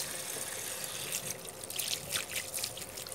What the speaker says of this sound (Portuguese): colocar bastante água.